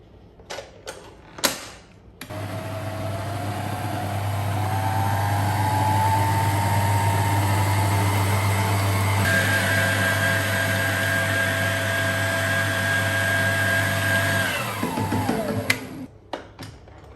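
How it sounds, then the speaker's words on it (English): An electric mixer blends the ingredients for a Greek custard pie. It whirs up to a steady loud drone, shifts higher in pitch midway, then winds down and stops, with brief knocks and clatter before and after. "then we'll turn on the mixer and we'll start blending."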